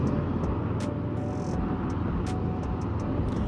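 Five military helicopters in arrow formation, led by an H225LP, fly past the main stand at a Tanzanian ceremony, giving a steady, fairly loud droning roar with no talk.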